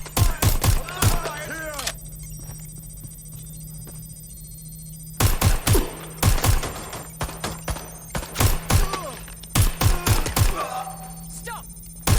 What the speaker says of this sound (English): We have gunfire! I need backup! They're shooting!